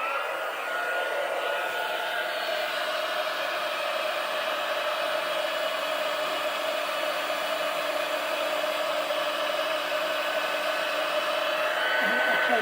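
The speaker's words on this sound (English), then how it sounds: "I'm going to bring in the heat tool. This is going to make some noise for a few moments" A heat tool used for embossing on a stamped card blows steadily and loudly, a constant close whooshing hum like a hair dryer that runs without a break throughout.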